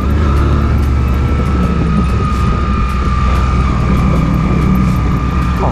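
Loud engine of a vehicle right behind, at a driving training ground: a close, constant low rumble and drone holding steady throughout, with no talk.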